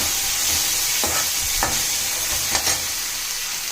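Ingredients being stirred in a hot pan for thalitha idli, a spoon scraping steadily through a faint sizzle with a few distinct strokes, close and alone.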